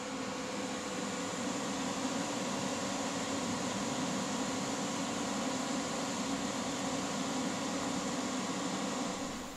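TIG welding arc from a Titanium Vulcan welder laying down a bead on metal: a steady, even buzzing hiss with a faint hum that holds unchanged throughout, with no talk.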